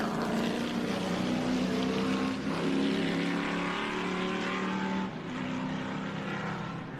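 Race car number 87 pulls out of the pits with a loud, droning engine roar that holds steady and shifts pitch slightly, then eases off a little toward the end, no talk over it.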